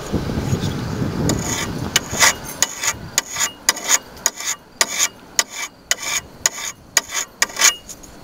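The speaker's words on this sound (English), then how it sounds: "it's a little hand stone, a Smith stone, to take the burrs off" A small Smith hand stone rasps in quick, separate strokes against a metal pry bar, removing burrs with about a dozen sharp scraping bursts in an uneven rhythm, close and fairly loud with no voices.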